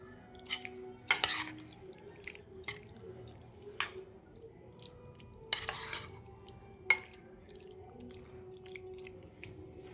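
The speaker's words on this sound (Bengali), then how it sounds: "এবার মিশিয়ে নেব আমি।" Potato yogurt curry stirred with spiced tempering mixed in, giving wet squelching scrapes and occasional sharp utensil clinks against the pot, with a few louder strokes among soft continuous stirring.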